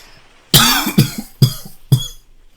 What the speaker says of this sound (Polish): mam cały czas ten kaszel